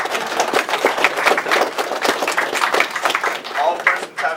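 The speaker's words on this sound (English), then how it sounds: "Clap." Sharp claps ring out in a courtroom during a mock trial as court is called into session, a dense run of quick hand claps with no speech over them.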